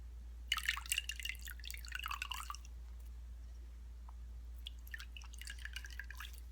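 Water drips and trickles into a bowl of warm water in two close, quiet bursts of small splashes, separated by a pause, over a steady low hum.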